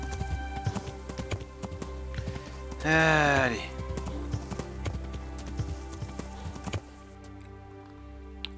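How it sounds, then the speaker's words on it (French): A horse's hooves clip-clop rhythmically in the medieval video game Kingdom Come Deliverance, steady footfalls under game music, with a brief whinny partway through and someone speaking briefly. "Allez, vas-y mon cheval, t'es le plus beau."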